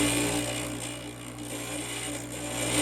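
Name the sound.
glass grinder grinding a porcelain piece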